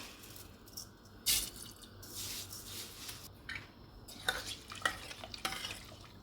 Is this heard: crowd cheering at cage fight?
no